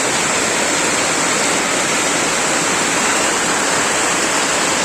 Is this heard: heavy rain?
yes